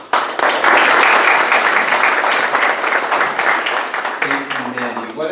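An audience at a local food system event applauds its speakers with loud, dense clapping that swells quickly and holds, tapering near the end as a voice begins speaking underneath.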